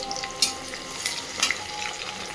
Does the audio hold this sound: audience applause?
no